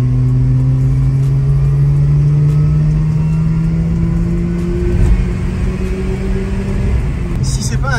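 Mazda RX-8 rotary engine, a 40th anniversary edition, holds a steady droning tone that rises slowly in pitch as it revs, loud and close, with talk nearby.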